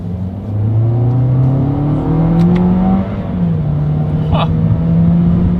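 A 2021 Toyota Corolla engine revs up and drops repeatedly as CVT paddle shifts step it through gears, a close droning whine rising and falling with a brief interjection from the driver.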